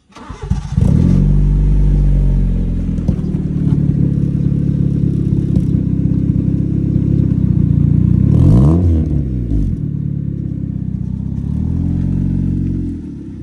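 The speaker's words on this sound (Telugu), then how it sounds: "ఎగ్జాస్ట్ నోట్ వినండి స్టార్ట్ చేయగానే ఐడిలో" A car engine with a modified HKS exhaust and no dB killer starts and settles into a loud, deep, steady idle close by, with a brief rev midway before it cuts off.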